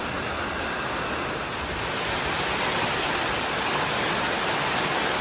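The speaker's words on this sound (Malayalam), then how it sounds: "നല്ല മഴ, നല്ല കാറ്റ് വന്നു, പിന്നാലെ മഴ, ഗംഭീര മഴയാണ്." Heavy rain comes with gusting wind in a continuous, full-bodied roar. The wash swells slightly partway through and stays loud and close, with no voices.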